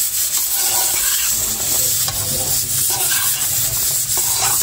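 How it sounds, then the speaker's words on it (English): Chickpeas are stirred with seasoning for a vegan coconut curry chickpea dish, giving a loud, continuous scraping and rubbing sound in the pan with a light sizzle underneath. "Stir and get the seasoning and the chickpea blending together."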